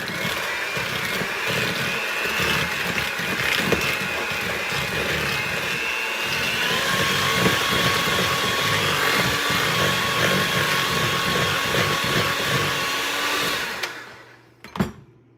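An electric mixer creams peanut butter cup cookie dough ingredients with an egg, making a loud, steady motor whine that runs unbroken for about fourteen seconds and then winds down and stops.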